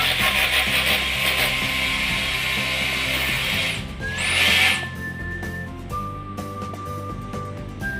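A heavy duty cordless battery drill whirs steadily and loudly, its motor pitch shifting as it slows and changes load partway through, then settles into a lower continuous hum, with no talking.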